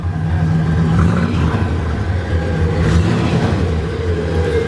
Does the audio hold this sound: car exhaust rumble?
yes